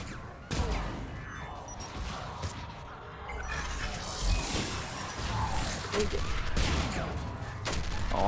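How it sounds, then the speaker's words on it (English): Grenade blast in a zombies shooter game during a Halloween event, a sudden loud burst followed by rumbling crashes and scattered gunfire. "all it takes for me is to just throw a grenade"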